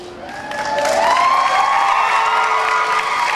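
Crowd at the 2010 NAS Oceana air show cheering and clapping for the Parachute Regiment Red Devils freefall display team, a loud sustained roar of applause and whoops that swells early and holds steady.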